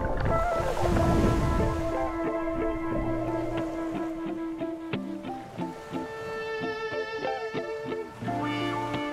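Ocean waves wash around a swimmer at a beach on Koh Phangan, a steady surging roar of water beneath a layer of sustained tonal background sound.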